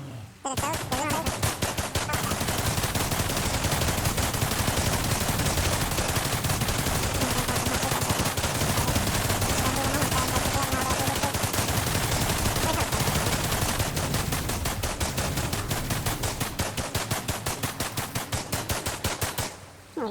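Video-game gunfire rattles in long, rapid automatic bursts, loud and nearly continuous, with shots coming in a fast even rhythm throughout.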